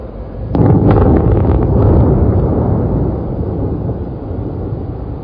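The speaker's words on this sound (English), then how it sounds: "just listen to how long the explosion that you're about to see takes to reach your ears" Blast in an open-pit gold mine, a distant deep boom that rolls in suddenly and rumbles on for several seconds before slowly fading, heard alone in open air.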